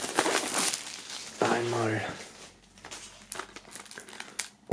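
Plastic foil packaging being torn off a band's box set, crinkling and rustling loudly at first and fading into quieter handling, with someone speaking briefly over it.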